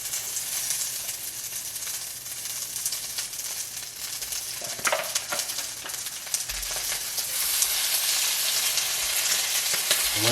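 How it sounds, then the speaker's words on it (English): Steak searing in a hot cast iron pan over medium-high heat, a loud, steady sizzle and spatter that runs close and unbroken, with a few faint clinks partway through. "I'm gonna go ahead and put my steak in here"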